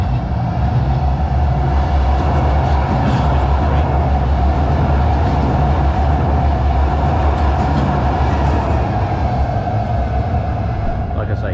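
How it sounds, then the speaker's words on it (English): A light rail train pulls into a downtown Calgary stop, a loud steady low rumble and hum of wheels and motors filling the whole stretch, close by, with no clear talk over it. "Right, here comes the next train."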